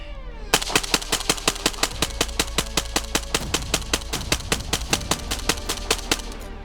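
Rapid semi-automatic fire from a PSA Krink rifle suppressed with an OCL Infinity 556K, a magazine dumped in a fast steady string of roughly two dozen sharp, evenly spaced shots, close and loud.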